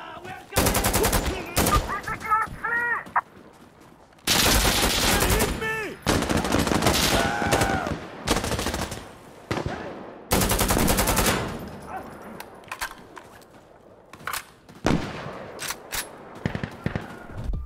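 Gunfire in the game Insurgency: Sandstorm, loud bursts of automatic and single shots in several separate volleys with short pauses between them, sharp and close with echoing tails.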